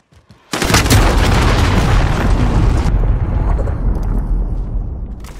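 Enemy cruise missile blast in a video game: a sudden, very loud, close explosion that hits all at once and rumbles on heavily, easing slightly partway through and slowly fading, with no voices.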